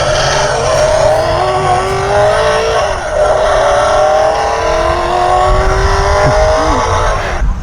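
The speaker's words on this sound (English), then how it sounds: "you could make any sound of any engine you like going down the street, like a Harley or something" A handlebar-mounted e-bike sound device plays a loud simulated motor-vehicle engine, Harley-style, holding a steady revving drone with rising and falling pitch sweeps throughout, no talking.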